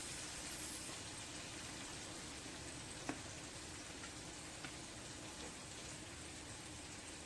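Pieces of flour-coated barbecue chicken deep frying in hot oil, giving a steady, faint hiss and crackle with an occasional louder pop, continuous and without talk.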